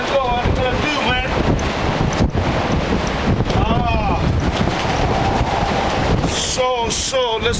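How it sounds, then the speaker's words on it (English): Strong storm wind batters an outdoor microphone in a loud, continuous roar with gusting buffets, while someone talks under it on a blustery day near the water. "it's ghastly windy today. It's so windy, can't even hold myself in the position still"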